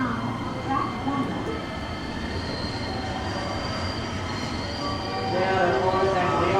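A JR Kobe Line commuter train departs Amagasaki Station during the evening rush, its steady rolling rumble and rail noise close and continuous, building slightly toward the end, with faint station voices beneath.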